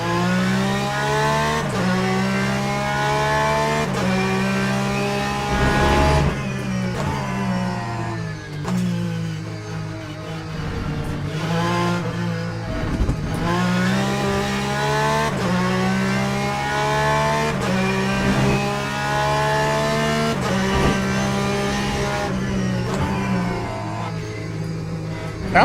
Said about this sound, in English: Let's see what the Porsche sounds like.